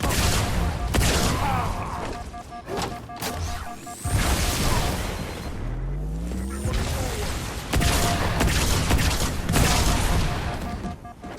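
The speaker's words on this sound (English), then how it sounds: "Fuel rod cannon is not actually as powerful as it feels like it ought to be." Fuel rod cannon firing in Halo 2 Anniversary, heard as repeated loud booming blasts and crashes amid dense combat noise, with rising whooshing projectile streaks between impacts.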